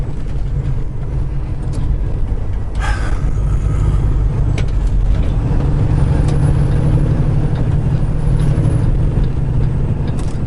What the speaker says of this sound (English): I mean, seriously, dump truck, you can't get over 25 miles an hour before you hit the highway?